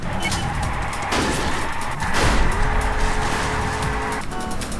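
Nitro boost in the video game Wheelman: a car engine roars and surges louder with a rising whine and some tire noise, continuous over about five seconds.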